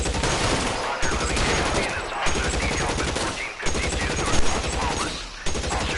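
Sustained automatic gunfire in a video game, rapid dense bursts aimed at a wall that pause briefly every second or so, loud and close throughout.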